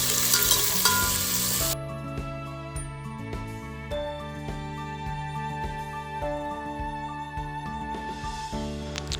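Chopped onions with ginger garlic paste frying in a pot for chicken pulao, an intense hiss at first that settles into a steady sizzle with stirring clinks, under background music.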